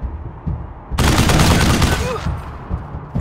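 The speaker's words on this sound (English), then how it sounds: "Can I shoot through that tree?" Shooting in Wasteland 3, a post-apocalyptic tactical game: after a quiet start a loud, dense burst of automatic gunfire erupts and rattles for about a second, then fades into lingering noise.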